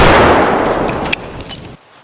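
A grenade blast in the survival game Highway 2 Die: a loud, broad roar that decays over about two seconds, followed by a few sharp cracks and debris pops before an abrupt cut to quiet.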